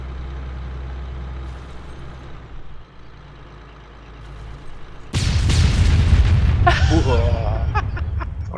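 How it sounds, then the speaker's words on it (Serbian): Loud explosion in the military sandbox game Arma 3 Epoch, bursting suddenly after quieter rumbling and ringing on with a crackling, roaring tail, with voices talking around it. "Od čega je eksplodirao? Šta je eksplodirao?"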